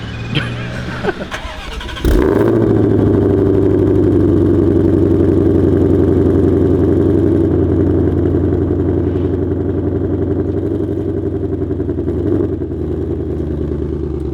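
A Ferrari 488 Pista at a race track starts up with a sharp burst, then its engine settles into a loud, steady idle that holds close by, with brief clatter before the start.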